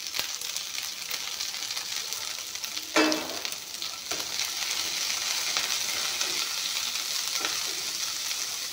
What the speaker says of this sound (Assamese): এইখিনি অলপমান ভাজি ল'ম।